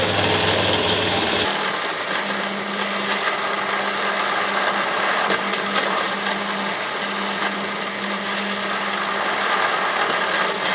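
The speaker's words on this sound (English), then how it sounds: "let's get these drilled" Steady power drill whirring continuously as holes are bored through a Kydex knife sheath, the motor hum held at a constant pitch with no talk over it.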